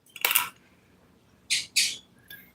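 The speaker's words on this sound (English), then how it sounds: "my birds are just doing all kinds of kissy noises in the background" Pet birds make short, smacking kiss-like noises, one burst early and two more close together later, with quiet pauses between.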